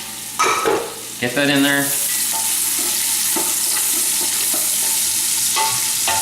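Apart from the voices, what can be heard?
sliced onion frying with diced bacon in olive oil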